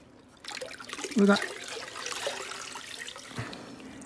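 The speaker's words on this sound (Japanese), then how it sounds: "水槽の水で洗うようにしてます。" Aquarium filter parts are rinsed in tank water rather than tap water, giving a soft, steady trickle and splash of water with a brief louder slosh, while a person talks over it.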